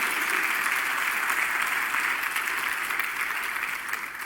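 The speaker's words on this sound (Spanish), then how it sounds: "Démosle palmas a nuestro Dios." A church congregation claps during a Spanish-language sermon, a dense, steady wash of many hands lasting throughout, fairly loud and close, with no talk over it.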